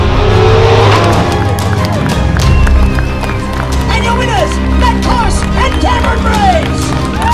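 Porsche 911 GT3 RS driven hard on a country road during the Targa High Country rally, its engine roaring loudly throughout, with a voice talking over it in the second half.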